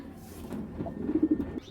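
Racing pigeons coo softly at close range, a short run of low throaty notes rising into a quick rolling series near the end, with no talk over them.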